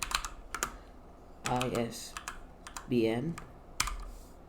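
Quick, light keystrokes on a computer keyboard as code is typed, heard in short clusters under a man's speech.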